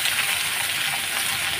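Meat and spices sautéing in a pan for khasir mangsho, a steady close hiss of frying that fills the whole short stretch with no talk.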